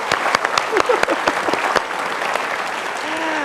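A studio audience at a motivational talk show applauds with dense, lively clapping that starts with distinct claps, and a few voices rise over it.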